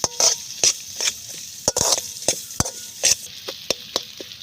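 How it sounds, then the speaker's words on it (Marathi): Onions fry in hot oil for Vidarbha-style palak paneer while a spoon stirs them, giving a quick, irregular series of close scraping clinks against the pan over a light sizzle. "आता कांदे थोडेसे होऊ द्यायचे चांगले तेलामध्ये"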